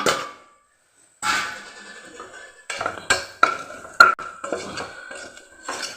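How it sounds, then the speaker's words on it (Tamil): A spoon stirs biryani powder, garam masala, Kashmiri chili powder and turmeric as they roast in a pan for tomato rice, giving scraping strokes and sharp metallic clinks against the pan at an irregular pace. "சும்மா இதை அப்படியே ஒரு செக்கியாக மட்டும் வறுத்து விட்டுட்டு"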